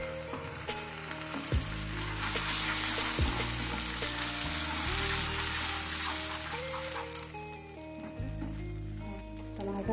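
Ground tomatoes frying with cooked onions in a pan for aloo do pyaza, a loud, steady crackling sizzle that swells and stays close throughout, with background hum and no talking.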